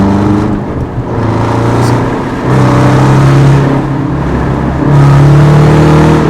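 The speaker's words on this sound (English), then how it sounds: "So the exhaust is always gonna sound good." A Dodge Challenger R/T 5.7L V8 with a Hellcat lower airbox and air tube revs and roars through a loud exhaust, the pitch climbing and settling in steady waves, close up with no talking.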